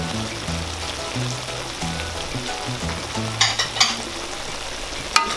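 Beef tripe and black beans stirred in a sizzling pan, a steady frying hiss with scraping stir strokes and a few sharp clinks of the utensil, close and without talk.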